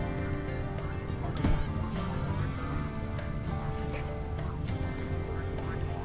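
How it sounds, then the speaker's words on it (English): Steady rain from the game RimWorld patters across the whole span, a dense, even wash of drops with a brief louder burst partway through and no talking. "now it's raining finally."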